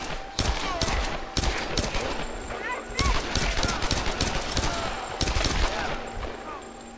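Rapid gunfire bursts in the Tomb Raider video game, repeated volleys of sharp shots in a steady run over a continuous game soundscape, loud and close.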